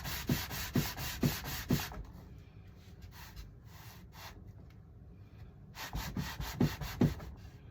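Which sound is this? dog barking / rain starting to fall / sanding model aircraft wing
sanding model aircraft wing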